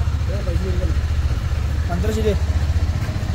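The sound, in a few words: vehicle engines left running and idling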